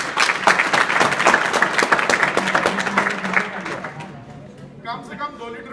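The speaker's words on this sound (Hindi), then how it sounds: "इनके लिए ताली बजाओ" Students in a school classroom clapping together, a dense burst of applause for about four seconds that fades out, followed by a voice speaking.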